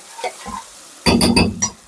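Sliced onion sautés in a pan, cooked until soft and pink rather than browned, with a short burst of close sizzling and stirring scrapes after a quiet start.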